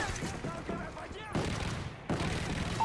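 Steady bursts of automatic gunfire pound a sentry gun in Modern Warfare 3's Survival mode on the Boardwalk map, dense and continuous, with sharp surges partway through and an announcer-style voice layered over the shooting.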